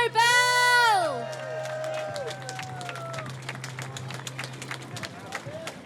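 Crowd at a sailors parade in Gothenburg cheering for Team Akzo Nobel, a broad wash of applause and cheers rising after an announcer's voice, with a sustained hum underneath and scattered claps continuing.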